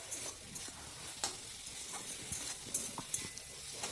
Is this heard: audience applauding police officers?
no